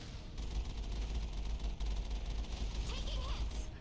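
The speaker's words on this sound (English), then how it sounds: "we're going to keep using the range of the Mako to try and get some hits in on those turrets" Mako vehicle in the Mass Effect video game firing at turrets: a dense, steady barrage of gunfire with booming low rumble, continuous for several seconds, with crackling impacts and electronic game effects near the end.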